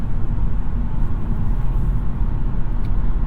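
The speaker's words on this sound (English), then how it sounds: "a little bit of extra wheel noise, road noise" Steady low rumble of tires on pavement at highway speed, about 74 mph, heard from inside a 2022 Toyota Camry Hybrid XSE, constant and fairly quiet with broadband road hiss.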